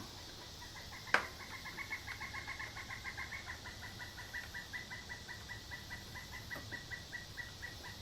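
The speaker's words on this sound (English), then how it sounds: "I don't know what that bird is, but it's a noisy one." An unidentified noisy bird calls outdoors in a steady run of repeated clucking notes, moderately distant and faint, with a single sharp knock near the start.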